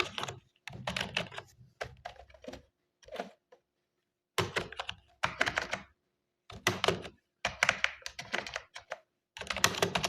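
Fingers type on a computer keyboard in quick, clattering bursts separated by short silent pauses, close and clear with no voices.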